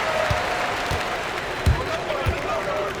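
Home crowd noise in the NBA 2K25 basketball video game, steady arena applause and cheering under a play-by-play voice, with occasional ball bounces thumping through.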